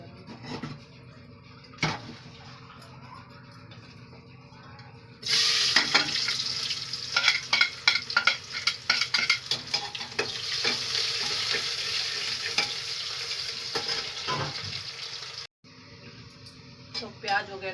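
Chopped onions sizzle in hot oil, starting abruptly around a third of the way in and then holding a steady, crackling hiss with scattered stirring clicks. A voice speaks faintly underneath before the hiss cuts out briefly near the end.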